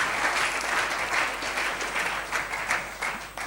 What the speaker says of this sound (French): Est-ce que nous ne pouvons pas acclamer pour nos amis?